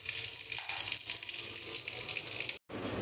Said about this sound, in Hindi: तो देखिए मैं पानी इसमें लेकर दिखाती हूँ आपको।